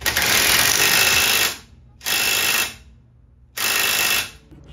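An impact wrench tightens sway bar bolts on a Jeep Wrangler TJ in three loud, close hammering bursts, each lasting about a second, separated by short pauses.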